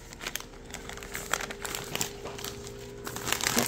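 Close crinkling and rustling of a plastic chip bag being handled and set into a gift arrangement, with irregular crackles that swell toward the end.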